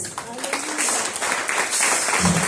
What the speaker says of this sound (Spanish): Levante un aplauso al Señor.